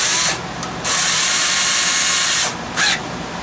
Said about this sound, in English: drill relief holes